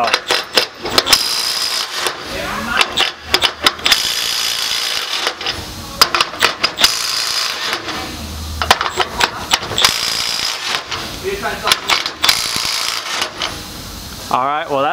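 A Milwaukee 3/8-inch right-angle impact wrench breaks loose bolts torqued past 250 foot-pounds, giving loud, close, repeated rattling hammer bursts separated by short pauses, with some talk between them.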